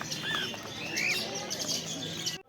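Cockatiels, including lutino birds, and conures chirp at a bird market in Garia, with scattered bright calls and tweets rising over a steady background bustle.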